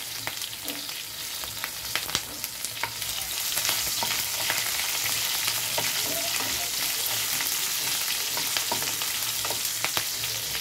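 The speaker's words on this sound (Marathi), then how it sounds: "मिरच्या टाकून झाल्या की थोडं परतून घ्या." Green chilies and curry leaves sizzle in a hot pan, a loud continuous frying hiss with scattered crackles and a few stirring scrapes, no talk.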